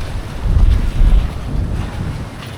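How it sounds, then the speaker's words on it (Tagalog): Wind buffets the microphone with low rumbling gusts while a boat moves over open water near Nagarao Island, Masbate, waves washing faintly underneath. "Ito yung sinyakan namin bangka, oh."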